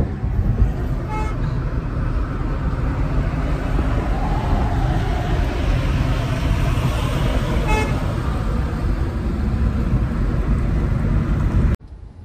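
A Venue car driving on a road as it nears Beed in traffic: steady, loud engine and tyre rumble throughout, with two short horn toots, ending with an abrupt drop in level.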